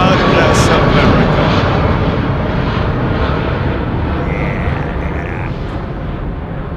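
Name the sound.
airliner with Trent 800 engines at Heathrow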